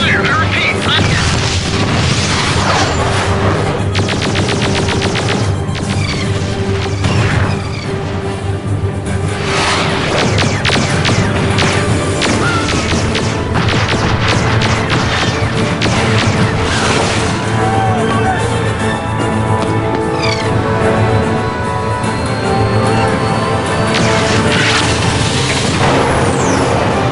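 A ship under fire in a Starlancer video game cutscene: repeated loud explosions and crashes over a constant roaring rumble, with whooshes passing by, sustained and dense for the whole stretch.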